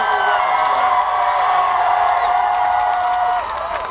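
A massive crowd at the Harry Potter and the Deathly Hallows Part 2 premiere cheers and whoops loudly and continuously, with screams and scattered clapping blending into a sustained roar.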